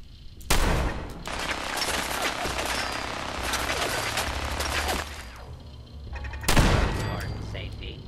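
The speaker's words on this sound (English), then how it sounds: "Laser turret. Machine guns behind that." Loud sustained automatic fire from machine guns in the video game Fallout 4, opening with a sharp burst, holding steady for several seconds, then stopping before a second heavy burst.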